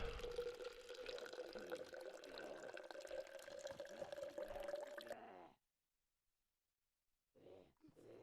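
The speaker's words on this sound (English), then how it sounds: "Radiator is almost filled." Water pours steadily into a car radiator in the DayZ video game, a continuous gurgling stream that cuts off abruptly, followed by silence and a couple of brief faint sounds.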